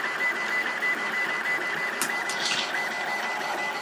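High-speed 3D printer running at fast acceleration produces a steady mechanical whir with a faint high tone, as its gears and motors move rapidly, heard alone at moderate level.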